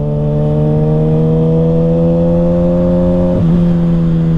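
A 2021 Kawasaki Ninja ZX6R with an M4 Street Slayer exhaust holds a loud, steady high-pitched engine drone at speed, then shifts briefly near the end and carries on, close and constant with wind noise and no talking.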